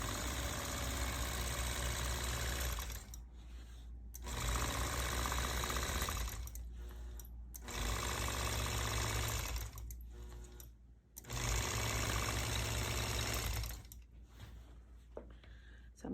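A long-arm quilting machine stitches a disappearing nine-patch quilt in steady runs of rapid mechanical whirring, pausing briefly several times before starting again.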